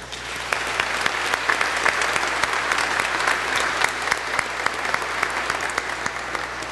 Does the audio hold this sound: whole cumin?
no